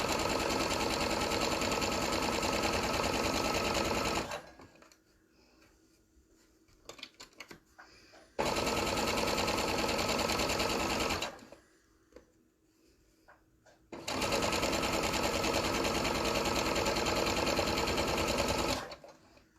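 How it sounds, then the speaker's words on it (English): Sewing machine running a 1/4 inch seam along raw fabric edges for strip quilting: three long, loud, even bursts of rapid stitching separated by quiet pauses with light handling noises. "I'm just running my 1/4 inch seam, my foot, right along the edge of those raw edges."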